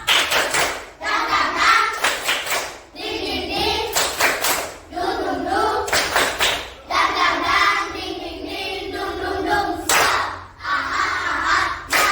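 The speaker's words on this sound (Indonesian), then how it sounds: "kita tepuk semangat dulu ya" A school class performs a rhythmic spirit clap, loud bursts of unison hand clapping in patterned sets alternating with children chanting together between the clapping sections.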